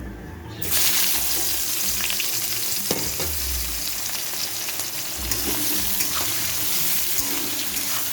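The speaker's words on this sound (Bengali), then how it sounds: "পেঁয়াজটা একটু লাল লাল করে ভাজা করে নেব" Onion frying in hot oil with bay leaf, dried red chilli, cumin, cardamom, cinnamon and cloves gives a steady, loud close sizzle, with stirring scrapes and clinks throughout and no talking.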